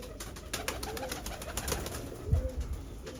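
Pigeons coo in soft, repeated low calls while they peck at pieces of roti, set against a steady outdoor background hum with no one speaking.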